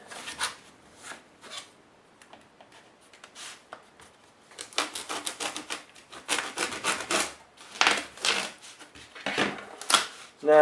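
Cutting a stack of small wood pieces for a birdhouse roof with a toy construction set: quiet, uneven rasping and scraping strokes that grow busier and louder partway through, close by, with speech at times.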